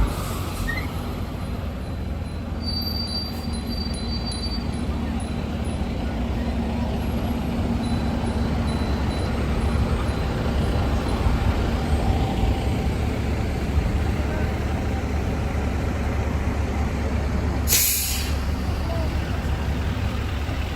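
Fire department trucks roll past on a New York City street between SoHo and the West Village. A continuous engine rumble is broken by one sharp burst of air-brake hiss near the end, with faint street voices underneath.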